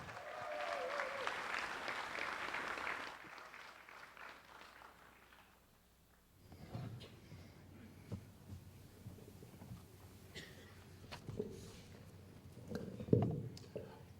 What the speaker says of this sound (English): How about a wonderful applause for MCs for tonight?